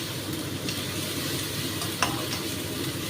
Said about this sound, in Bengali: গ্যাসটা কমিয়ে টমেটোটাকে একটু নরম করছি